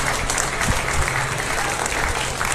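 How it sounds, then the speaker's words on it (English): Crowd at a 2023 beef cattle show claps steadily and loudly in a barn arena, a sustained wash of many hands with no talk over it. "let's give them a round of applause to head back to the barn"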